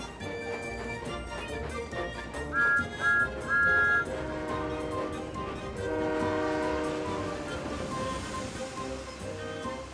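Cartoon engine Thomas speeds up while pulling wagons, with bright whistle toots in short bursts over a steady rolling rail rumble, followed by a sustained tonal whistle chord.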